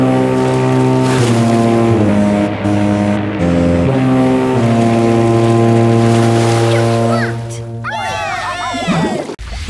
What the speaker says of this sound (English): Robodog, give them a blast of the horn!